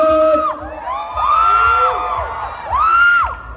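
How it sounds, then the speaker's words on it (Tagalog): Fans at a live meet-and-greet event shouting and cheering, with high whooping voices rising in two loud swells over a steady crowd roar. "Ayan, sigawan naman dyan, Christian!"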